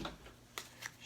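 A deck of character cards for the board game Citadels being shuffled, a few quick soft riffling flicks close by, quiet and brief.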